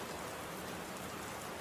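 Steady outdoor rain patters in a dense, unbroken wash of drops hitting surfaces, alone and fairly close.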